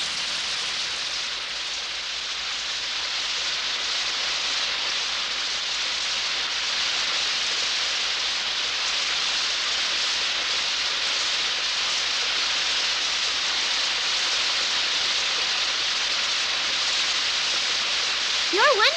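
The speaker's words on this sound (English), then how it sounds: "Look, everybody, it's raining." Steady, even rain pours down on an island in a constant broadband hiss that continues without pause at a fairly loud level.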